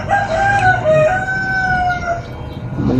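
A rooster kept as a backyard chicken crows loudly and close by in one long, wavering call, and a few soft clucks follow at the end.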